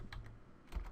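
Fast keystrokes on a computer keyboard as a command is entered into a Windows PC, a short burst of close, crisp clicks with a heavier tap near the end.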